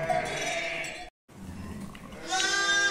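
Sheep and lambs bleat in a farm pen, a steady close chorus of overlapping calls with a brief drop out midway and a louder, higher lamb cry near the end.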